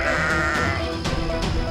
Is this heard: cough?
no